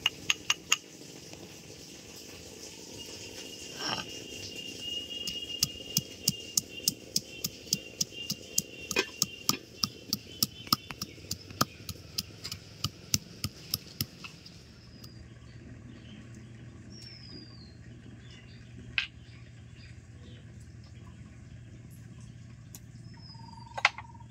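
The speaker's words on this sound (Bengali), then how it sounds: "এখন বেটে নিচ্ছি আদা।" Ginger ground on a traditional grinding stone in a home kitchen, a fast run of rhythmic clacking strokes that later slows into a few scattered knocks over steady background noise.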